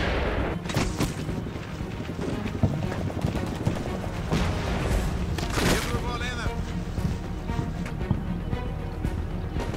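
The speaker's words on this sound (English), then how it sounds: "The Marines take a moment and just shoot at my retreating men" Marines firing in Combat Mission Shock Force 2, a mix of scattered gunshots, rapid bursts and heavier booms, with brief sharp cracks, busy and fairly close throughout.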